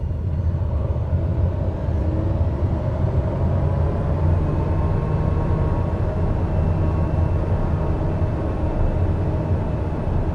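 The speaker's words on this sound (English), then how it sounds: "Those reverse thrusters going." Airliner reverse thrust after landing at Renton from Anchorage, a steady loud low roar that holds evenly throughout, close and with no talking, as heard in a flight simulator.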